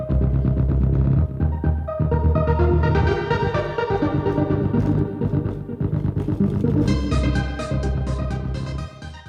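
An electronic music track plays loud and dense: ticking hi-hat drums over a deep sub-bass synthesizer and layered synth parts, a steady driving groove with no voices.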